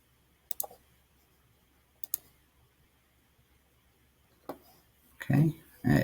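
Sharp computer mouse clicks, two brief pairs spaced apart on a quiet desk, followed by a short voice.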